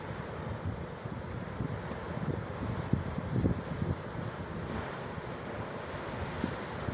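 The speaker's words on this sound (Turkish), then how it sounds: "Deniz de kaç gündür çok sinirli." Rough sea surf breaking on the shore at Aytep beach, a continuous low roar of waves with heavy wind buffeting the microphone and faint thumps, steady and fairly distant.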